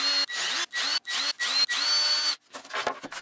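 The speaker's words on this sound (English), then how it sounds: "Drilling mounting holes." A power drill bores into wood in several short bursts, its whine rising and falling as it stops and starts, followed by brief clattering handling sounds.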